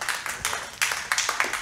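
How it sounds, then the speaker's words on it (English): A church congregation claps for the Lord in a short burst of hand claps, several dense rounds of applause swelling and fading in quick succession, fairly loud and close with no speech over it. "Go ahead and give the Lord a hand clap tonight"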